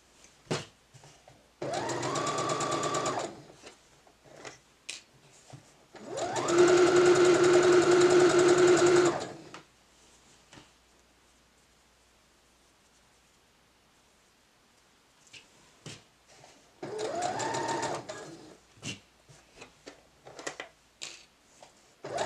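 A sewing machine runs down a kaftan seam toward the hemline in three separate bursts of steady, buzzing stitching, each a couple of seconds long. Quiet pauses and small handling rustles fall between the bursts.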